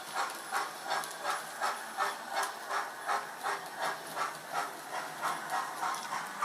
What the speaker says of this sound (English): there's the train going off